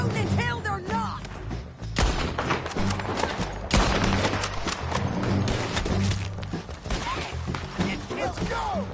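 Rapid gunfire in Red Dead Redemption 2 sounds in dense, loud bursts of overlapping shots, with shouting voices mixed in over a rumbling backdrop.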